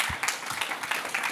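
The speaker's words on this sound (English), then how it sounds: "Warm applause to our speakers once more." Applause from a conference audience after a talk on automating application security, a dense, steady wash of clapping through the whole moment with no break, fairly close and even in loudness.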